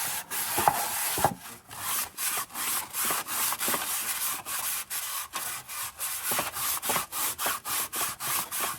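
A Scotch-Brite pad scrubs a vintage Lisk lunchbox pail in quick repeated back-and-forth strokes, a steady rhythmic abrasive rasping heard up close with no voices.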